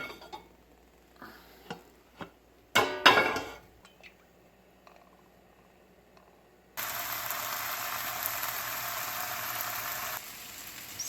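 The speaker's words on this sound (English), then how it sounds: "Gotta blanch the broccoli." Broccoli blanching in a pot of boiling water in a home kitchen late at night: a few soft knocks and a louder clatter, then a steady, loud hiss of bubbling water that runs for several seconds and stops abruptly.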